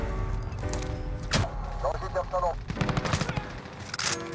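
Rapid automatic gunfire from a Grau 5.56 rifle in Modern Warfare, with bursts and cracking shots over rumbling game noise and people talking.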